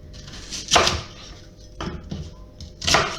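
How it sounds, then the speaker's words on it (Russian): Three sharp knife chops through an onion on a cutting board, spaced out, with softer rustling and small knocks between them, close by. "Луковицу вот так на кусочки просто нарезаем и укладываем."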